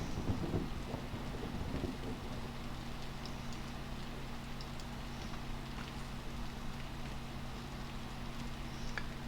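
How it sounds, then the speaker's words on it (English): A video game thunderstorm: constant rain hiss with low rolling thunder, loudest at the start and then settling into a steady wet rumble, with no voices over it. "Oh, but it's storm already."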